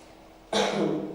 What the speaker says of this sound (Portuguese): desculpa, tô com um pigarrinho aqui.